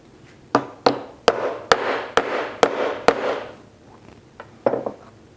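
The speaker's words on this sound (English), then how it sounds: "so I can finish tapping that home" A small piece of hardwood is tapped to drive the bearing of a Shelix helical cutterhead into place on an 8-inch jointer, producing about a dozen sharp, woody knocks in an irregular rhythm, close and fairly loud with short ringing tails.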